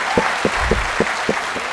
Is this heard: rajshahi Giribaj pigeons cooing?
no